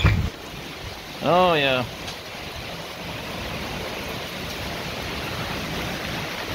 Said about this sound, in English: We're getting some rain. I can hear it.